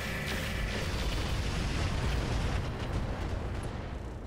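A Warlord mech unleashes a swarm missile volley in the Roguetech mech game, heard as a continuous, loud, rumbling roar of launches and blasts that stays dense throughout and fades slightly at the end.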